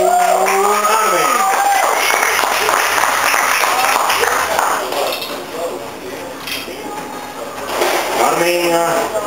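Audience applause breaks out at the Monin Cup 2012 cocktail competition as two bartenders begin, a sustained clapping wash with clinking glassware and bar tools, while a host talks over it.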